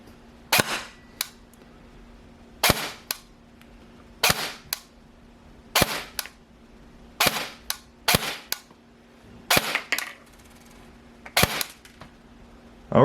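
An airsoft SCAR-L AEG powered by an 11.1 V Li-ion battery fires 0.2 g BBs through a chronograph: about a dozen sharp, snappy shots, spaced singly and in pairs, over a faint steady hum.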